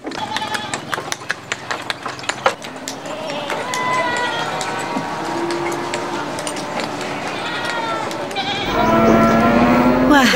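A busy Sunday livestock market with goats, cattle and water buffalo, where bleats and scattered hoof clatter mix with a constant crowd murmur and overlapping voices.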